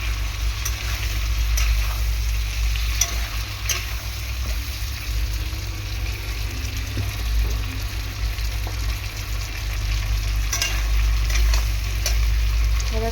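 Greens, sweet potato and papaya fry gently in a little oil while being stirred, a soft steady sizzle with light scraping over a low continuous hum.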